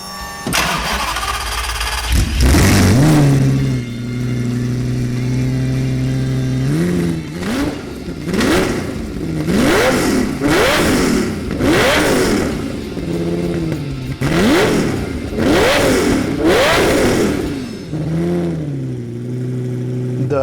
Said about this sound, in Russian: Давай заводи, посмотрим, как она звучит только с катализаторами.